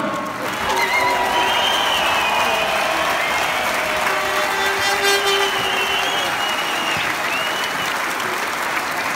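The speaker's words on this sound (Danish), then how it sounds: "Et bravende bifald fra Ballerup Super Arena." Roaring applause fills Ballerup Super Arena at a six-day cycling race, a dense, loud crowd clapping continuously throughout with scattered cheers.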